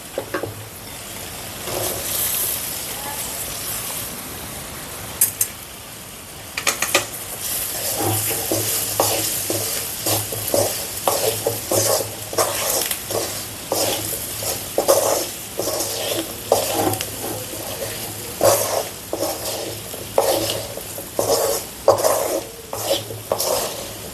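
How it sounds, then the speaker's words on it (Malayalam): Cardamom pickle being stirred in a pan with the fried pods, steady sizzling under repeated scraping and clinking stir strokes that grow busier and more rhythmic after a short pause, close and fairly loud throughout. "ഇതിനകത്തോട്ട് നമുക്ക് വറുത്ത് വെച്ചിരിക്കുന്ന ഏലക്കായും കൂടി ഇടും"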